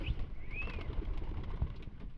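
Pet pigeons of several breeds, including Jalali and King, coo softly in low murmuring pulses while waiting for feed, with a faint high chirp over quiet background rustle.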